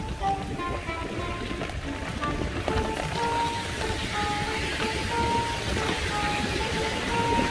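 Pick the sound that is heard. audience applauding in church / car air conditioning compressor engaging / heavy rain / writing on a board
heavy rain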